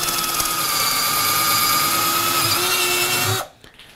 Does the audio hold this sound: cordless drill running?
yes